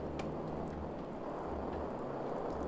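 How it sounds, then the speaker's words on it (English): Stormy rain in The Mannequin video game, a steady dense wash of rainfall with faint sharp crackles, continuous and even throughout with no voices. "Sounds very stormy."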